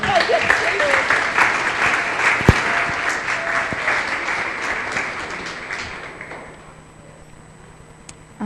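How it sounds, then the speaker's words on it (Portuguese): A congregation at a church gathering breaks into dense, loud applause that holds for several seconds, then thins and fades out toward the end. "Pode aplaudir."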